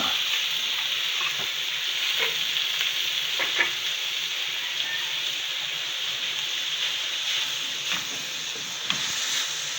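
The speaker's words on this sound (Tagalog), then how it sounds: "i-mix lang natin siya ng i-mix" Canton and bihon noodles being stirred in a pan, with a steady bright sizzle and hiss of frying throughout and a few faint scraping taps of the utensil, close and continuous with no talking.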